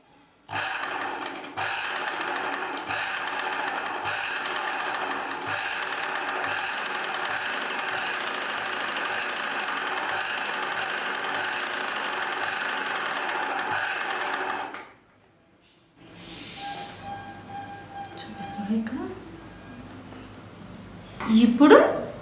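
An electric tailoring sewing machine motor, controlled by a foot pedal and run slowly, hums and whirs steadily for about fifteen seconds before cutting off, leaving quieter scattered sounds afterward.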